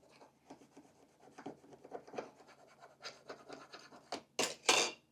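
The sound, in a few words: scraping Cricut vinyl transfer to adhere to surface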